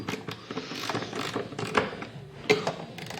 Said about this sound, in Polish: Przykręcam obudowę.